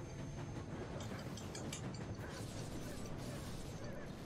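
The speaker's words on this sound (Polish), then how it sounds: "Dobra, rozumiem, że pociąg już powoli odjeżdża, tak?" Train slowly pulling away in the video game Shank: a steady mechanical rumble with clanking, ratcheting metal and rail noise, loud and continuous with no talk.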